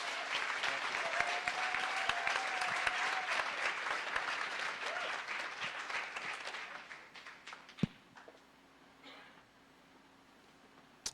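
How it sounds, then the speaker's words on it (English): An audience gives a round of applause, a full burst of many hands clapping that tapers off after about seven seconds, leaving a quiet room with a few stray sounds and a faint voice. "Let's give Charlie another round of applause,"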